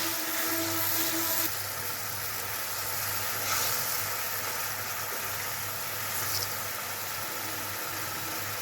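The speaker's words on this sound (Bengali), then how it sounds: "এবার আমি মশলাটা ভালো করে কষিয়ে নেব।" Spice masala sizzling steadily in a pan as it is sautéed for a vegetarian potato dish, a continuous hiss at an even level, with a faint low hum beneath it.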